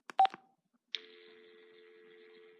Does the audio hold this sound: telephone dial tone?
yes